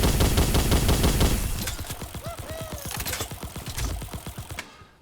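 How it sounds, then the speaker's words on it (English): A rocket machine gun in Pixel Gun 3D fires a rapid, steady stream of sharp shots, loud at first and then settling into a quicker rattling burst before stopping. "And I don't know why you'd put a machine gun mechanism on a rocket launcher anyways."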